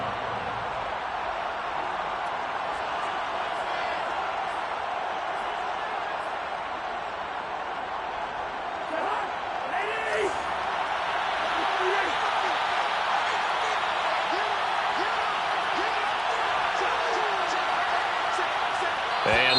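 A home stadium crowd in a Madden football video game keeps up a loud, continuous roar, swelling noticeably partway through with sharper shouts and whistles rising over the steady din.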